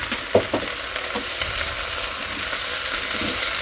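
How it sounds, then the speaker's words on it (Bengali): Chopped radish greens, bottle gourd and cabbage sizzle steadily in a hot pan, with a few stirring scrapes near the start over the continuous frying hiss. "এটাকে ভাজি করে দিই ঝটপট।"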